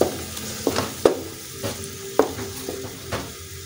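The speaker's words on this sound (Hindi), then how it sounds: "थोड़ी देर इसको ही भूनना बस।" Tomato paste frying in a pan with chicken mince, liver pieces and potatoes, a steady close sizzle punctuated by sharp scraping stirs of a spoon against the pot.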